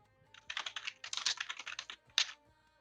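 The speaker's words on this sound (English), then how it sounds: "And now we hear the ASMR of the keyboard." Rapid computer keyboard typing, with bursts of clicking keys in quick irregular rhythm, a short pause, then more keystrokes and one louder final tap, close and clear with no talking.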